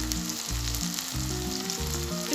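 Crushed red chilli fries in a pan with a continuous close sizzle and crackle, under repeated low rhythmic thuds from stirring or background music, with no talk.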